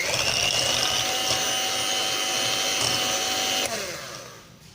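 An electric beater whisks butter in a steady, loud whirring drone that winds down and fades out near the end.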